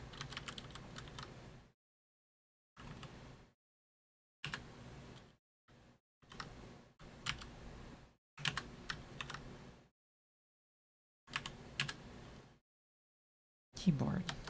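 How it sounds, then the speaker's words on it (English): Bursts of rapid typing on a computer keyboard, crisp close key clicks in short runs separated by silent gaps, with a brief voice near the end. "Keyboard."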